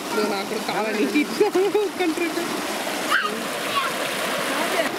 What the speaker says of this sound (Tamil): தண்ணி ஓடுது பாருங்களேன்